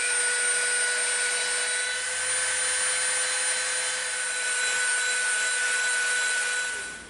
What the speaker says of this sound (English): We beveled both sides so it comes together to a peak.